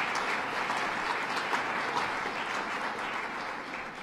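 An audience applauds at a 2013-14 New York State budget signing held in Buffalo, with steady, dense clapping that holds for about four seconds without talk.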